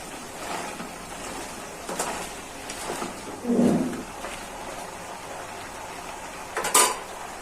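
A lid is set onto a cooking pot of Malabar spinach curry with tiger prawns, giving one brief clatter of metal near the middle, a faint clink near the end, and quiet kitchen background otherwise.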